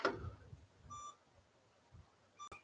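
A semi truck that has just been switched on gives a pair of short electronic beeps, about one and a half seconds apart, faint under a quiet background.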